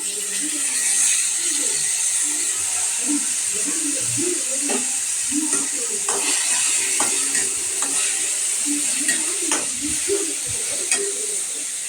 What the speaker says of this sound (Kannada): ಈಗ ನಾನು ಟೊಮೆಟೊ ಹಾಕ್ಕೊತಾ ಇದ್ದೀನಿ